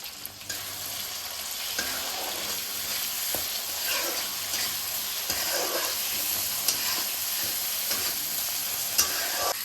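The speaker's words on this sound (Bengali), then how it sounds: "মশলাটা খুব ভালোভাবে আমি কষে নিলাম।" Ground turmeric, chilli, coriander and cumin powders fry in oil in a pan for a potato paneer biryani, giving a steady, close sizzle with light stirring scrapes throughout, no voices.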